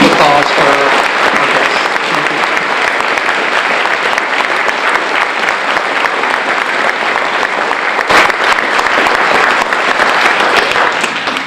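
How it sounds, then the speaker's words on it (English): Strong, sustained applause from an audience gathered at a graveside anniversary tribute, dense steady clapping filling the whole stretch without letup. "give a very, very strong round of applause for our guests"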